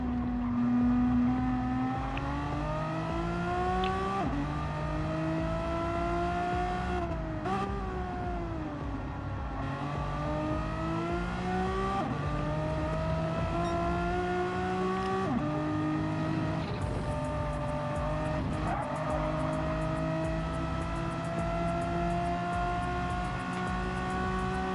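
Renault Megane Trophy race cars in a racing video game, engines screaming near and loud as they rev up through the gears with repeated rising pitch sweeps and sharp shift drops.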